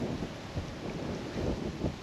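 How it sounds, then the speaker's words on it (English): Steady wind blustering against the microphone, a low continuous rumble with gusty swells throughout and no voices. "It is windy."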